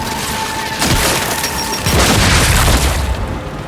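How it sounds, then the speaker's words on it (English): A frag grenade detonates in Gears of War with a loud, close boom and a rolling, debris-filled rumble that swells briefly and then fades over a few seconds. "Throwing frag!"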